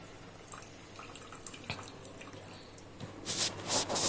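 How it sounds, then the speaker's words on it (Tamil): Rice-washing water being poured into a pumpkin curry, faint drips and trickles at first, then a louder splashing pour near the end of the short clip. "அரிசி களைஞ்ச தண்ணி இப்போது இதில் சேர்த்துக்கலாம்"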